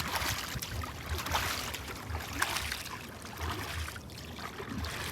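Water of the Brahmaputra river in Mymensingh flowing past, a soft continuous wash and trickle heard close by with low rumbling underneath and no voices.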